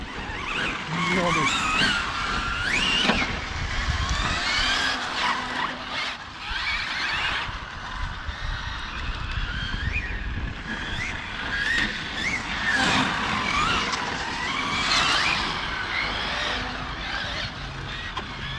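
Arrma Felony and Castle Monster RC cars skid and squeal around a carpet track, tyres screeching repeatedly through steady high motor whine, with people talking over the action.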